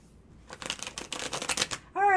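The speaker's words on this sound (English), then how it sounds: "So I want to shuffle those again for Josephine's question" Tarot cards riffle and shuffle in quick, crisp bursts for over a second, close and fairly quiet, followed by a short burst of voice at the end.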